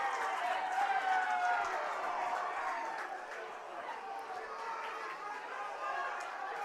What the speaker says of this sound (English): we got a raucous crowd here at Athletic Park